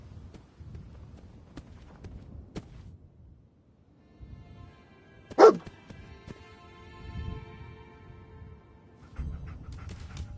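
Dogmeat, the dog companion in Fallout 4, lets out one sharp, loud bark midway, surrounded by soft panting and footsteps in a quiet setting.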